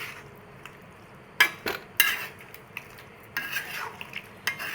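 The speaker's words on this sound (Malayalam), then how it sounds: "ഞാൻ എല്ലാം ഒന്ന് ഇളക്കി കൊടുക്കുക." Shallots and masala are stirred in a pan, a few scattered metallic scrapes and clinks of a spoon against the pan over a faint background of sizzle, close but sparse.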